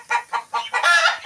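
Chickens cluck close by in a quick series of short, loud bursts, one call stretching longer near the end.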